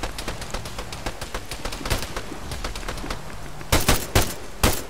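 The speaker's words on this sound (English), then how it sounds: "My gun sounds different too." Rapid automatic gunfire from the player's rifle in ArmA 3 crackles in quick bursts of close, sharp shots, with a few louder single cracks near the end.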